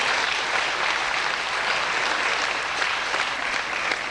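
Dense, continuous audience applause at a live stage show in a concert hall, loud and even throughout with no pauses.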